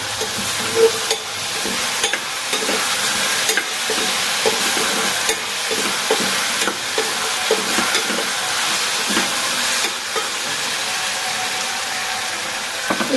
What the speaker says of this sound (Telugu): బాగా మగ్గుతున్నాయి కూరగాయలు